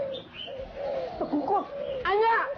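A turtle dove, the tekukur, coos in a short series of soft, tonal, rising and falling calls, with chirpy notes toward the end, close by and fairly clear over faint background sound.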